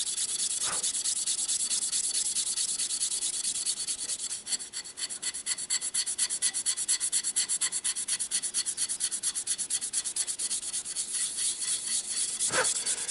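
Sabitoru rust eraser rubbed back and forth over rusty metal, a steady, close abrasive scrubbing that runs almost continuously with a brief pause midway and faint taps at the start and end.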